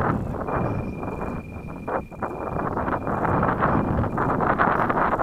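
Wind gusts buffet the microphone at a model jet flying field, a loud, rough rumbling roar that swells and dips, with a faint steady whine of a distant jet engine beneath it.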